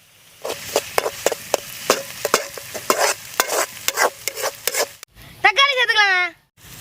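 Onion, ginger and garlic stir-frying for bamboo kothu parotta, a run of sharp regular scrapes and clacks of a spatula against the pan over a light sizzle, with a short burst of voices near the end.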